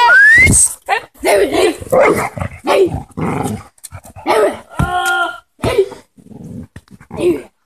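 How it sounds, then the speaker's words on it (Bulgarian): A pet dog barks in several sharp, loud bursts close by, mixed in with excited voices of people talking and shouting at home. "Светла, има кучето"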